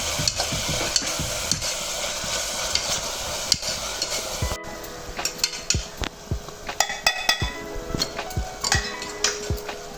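Meat sautéed and stirred in a pan for Kanyakumari nonbu kanji, with a steady loud sizzle for the first half. Frequent sharp scrapes and clinks of a utensil against the pan follow as the frying quiets.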